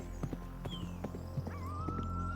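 Horse hooves clip-clopping as a horse is ridden, a run of separate knocking hoofbeats over a steady low hum, fairly faint, with a brief whinny-like tone and no talk.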